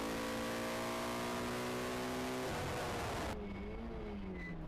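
A race car at Rockingham circuit is pushed hard into the Tarzan corner after locking a rear brake. The engine roars loud and close with the pitch sweeping, drops away under braking and then picks up again, with no talking.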